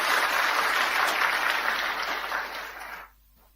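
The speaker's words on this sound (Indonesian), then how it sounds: "Yang percaya berikan tepuk tangan bagi Allah kita" Church congregation applauding together at a worship service, steady broadband clapping held for about three seconds before cutting off abruptly into near silence.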